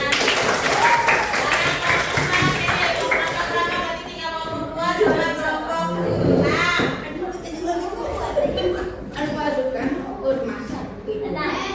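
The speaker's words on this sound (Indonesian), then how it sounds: "Tepuk tangan." Classroom applause from students after a group presents a fried rice recipe lesson, brisk clapping at first, then mixed with children's chatter and voices throughout.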